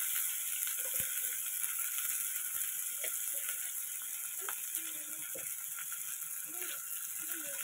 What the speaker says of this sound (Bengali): তো এটাকে ভালো মতো ভাজবো অনেক সময় ধরে